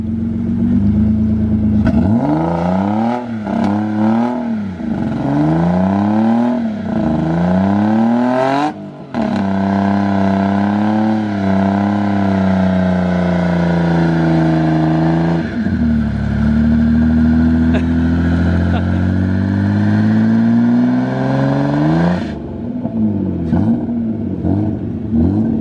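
An E36 ute's engine revs hard during a skid, repeatedly climbing and dropping in pitch in loud, sweeping surges, followed by a long sustained rising wail before the revs fall away.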